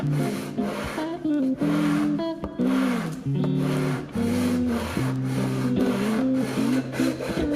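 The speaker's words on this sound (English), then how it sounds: "So I took time and I sanded them as much as I could to get them as flat as possible." Hand sanding of the ends of maple pieces, a loud repeated rubbing rasp in steady back-and-forth strokes, close up with no talk.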